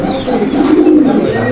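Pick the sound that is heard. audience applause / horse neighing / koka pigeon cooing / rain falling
koka pigeon cooing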